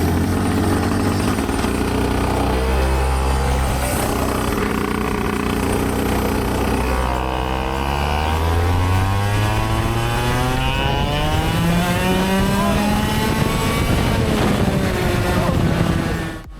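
Racing go-kart on a track with an owner kart setup, engine roaring loud and continuous throughout, pitch sweeping up and down as it accelerates out of corners and revs high, close up with no talk.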